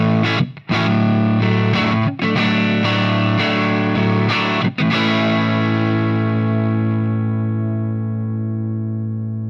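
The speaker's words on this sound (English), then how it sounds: "here's our 50-watt stock amp" Electric guitar played through a stock 50-watt Humble amp: a few strummed distorted chords with brief choppy breaks, then a long sustained chord ringing out and slowly fading, loud and close.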